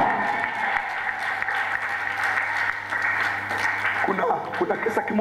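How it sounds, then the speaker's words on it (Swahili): Audience clapping fills a church seminar hall, a steady sustained applause that stays loud throughout, with a few voices rising near the end. "Piga Yesu makofi ya shangwe kwa jina la Yesu aliye hai."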